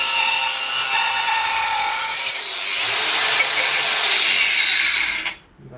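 A power tool cuts metal during a rear shock absorber replacement on a Toyota Corolla, a loud, steady, high-pitched grinding whine held for several seconds before stopping abruptly at the end.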